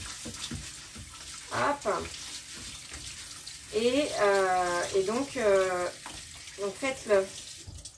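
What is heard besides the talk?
rinsing rice under a running water tap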